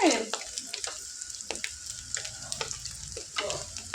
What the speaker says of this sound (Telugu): చిట్టపట్టం అనేటట్టు ఫ్రై అయింది ఫ్రెండ్స్